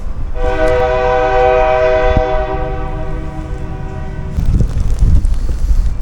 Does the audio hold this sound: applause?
no